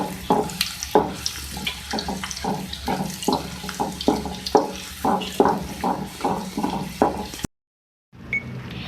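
Whole cumin seeds fry in hot oil with a steady hiss, broken by a regular pulse of louder crackling bursts, until the sound cuts off abruptly near the end.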